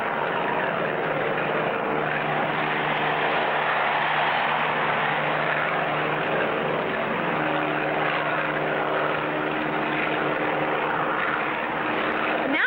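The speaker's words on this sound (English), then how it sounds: "to the plane taking off." A propeller airplane takes off and circles a board racetrack, its engine a steady, loud droning roar held at an even level throughout, with no voices.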